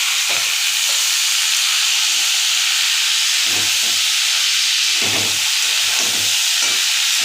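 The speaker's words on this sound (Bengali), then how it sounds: "একসঙ্গে কষিয়ে নেবো মশলা শুধু।" Cabbage tossed with spices after fried potatoes, sautéing in a hot pan for a vegetarian Bengali dish, giving a steady close hiss and sizzle with a few louder bursts of frying and stirring, no voices.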